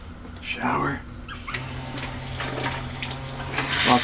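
Shower water runs steadily in a Coral Princess cruise ship stateroom washroom, a continuous hiss of spray heard up close beneath a voice talking throughout.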